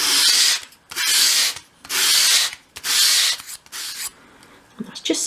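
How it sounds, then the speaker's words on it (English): A small wooden piece for a 1/12th scale project is swept edge-first across sandpaper laid flat on a work surface, giving four loud, even rasping strokes with brief pauses, then softer handling noises. "So with your sandpaper flat on your work surface, move around a little bit there, hold the piece at a 45-degree angle and sweep it towards you"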